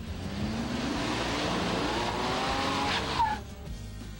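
A four-wheel drive Ford Ranger pickup drives with a steady, fairly loud engine drone and a rising tire-scrub whine for about three seconds, then cuts off abruptly, leaving a quieter background.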